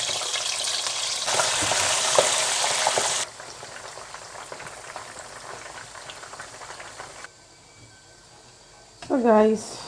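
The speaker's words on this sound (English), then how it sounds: "Now we'll have to fry it now." Rice frying in a pan for Nigerian fried rice gives a steady, close sizzle with stirring scrapes. The sizzle softens midway and fades, and a voice speaks briefly at the end.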